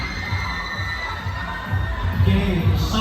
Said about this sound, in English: shall we give our first batch of candidates our loudest cheers and applause once again?